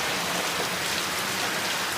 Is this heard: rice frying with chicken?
no